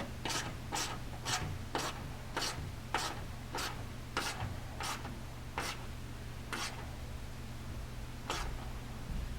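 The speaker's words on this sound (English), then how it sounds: "I'm just using a little 1/4 inch drive ratchet" Small 1/4 inch drive ratchet tightening skid plate bolts on a 2020 Polaris Ranger 1000, a run of short, evenly spaced clicking rasps close up, slowing toward the end, over a steady low hum.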